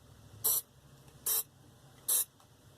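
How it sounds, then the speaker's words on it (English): Three short hissing bursts from a spray can of surface prep into holes in a black iron fuel tank on a 1969 trawler, evenly spaced, close and fairly loud against a quiet background. "So I'm going to spray the surface prep in these holes."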